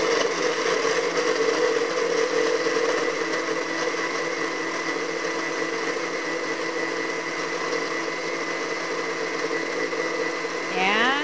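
A countertop blender mixes frozen strawberries, blueberries and banana into a smoothie with a loud, steady motor whir that runs without a break. A short squeaky noise comes right at the end.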